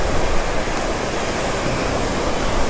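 Steady rushing water noise, broadband and constant, as waves break over rocks on a river nearby with no pauses.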